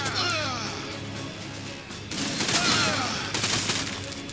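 Ork Shoota Boyz in the Sanctus Reach strategy game fire a loud, dense fusillade of gunshots in repeated bursts, with crashing impacts layered on top.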